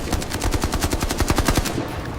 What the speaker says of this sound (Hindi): फायरिंग बंद कर दो।